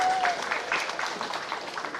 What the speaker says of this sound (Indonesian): Tepuk tangan dulu buat Pak Kepala Sekolah.